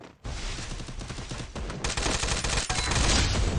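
Rapid automatic gunfire from a new gun in the video game Free Fire, starting after a brief pause and continuing as dense repeated shots that grow louder toward the end.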